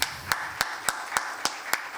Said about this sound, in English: first a big round of applause for Amchi Navi Mumbai.